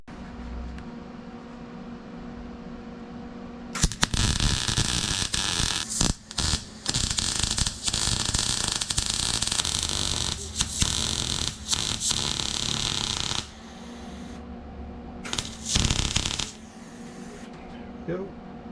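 A belt sander grinds a metal brake lever gusset for a modified Type 1 Beetle parking brake lever, a loud, harsh roar that runs about ten seconds, stops, then returns for one short burst.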